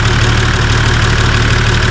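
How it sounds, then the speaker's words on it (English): A Nissan Patrol engine idles to warm up before an oil change, a loud, close, steady rumble with an even mechanical throb and no talking. "Now all we're doing here is we're just idling the car up,"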